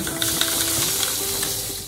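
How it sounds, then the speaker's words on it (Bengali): Brinjal slices sizzle steadily in hot oil, a loud continuous frying hiss close by, with faint stirring. "এবারে দিয়ে দিয়েছি হলো বেগুন ভাজা"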